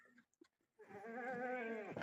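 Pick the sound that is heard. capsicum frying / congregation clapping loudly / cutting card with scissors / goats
goats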